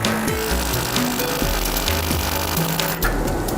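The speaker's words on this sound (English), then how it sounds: "He grinds the excess metal off the handle butt, then locks the rivet in place." Power grinder working excess metal off the rivet at the butt of a Marttiini hunting knife handle, a steady loud whine with a shifting, stepping pitch as the tool presses the workpiece, continuous with no voices.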